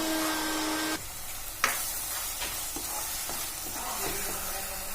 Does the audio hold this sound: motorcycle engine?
no